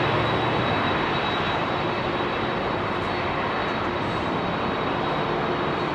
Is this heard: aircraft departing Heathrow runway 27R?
yes